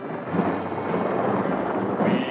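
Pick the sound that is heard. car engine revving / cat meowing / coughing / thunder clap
thunder clap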